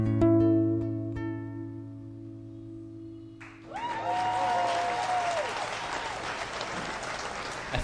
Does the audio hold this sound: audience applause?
yes